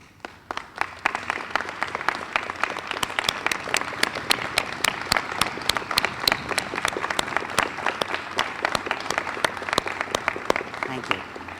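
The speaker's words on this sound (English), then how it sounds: "Would you stand so we can give you a round of applause?" Sustained applause from an audience at a Dean's List reception honoring students for academic excellence, dense steady clapping that carries on for the full stretch with crisp individual claps standing out above the wash.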